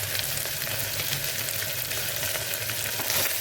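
Cashews fry in hot oil in a pan, making a dense, even, crackling sizzle that holds steady and close throughout, with no talking.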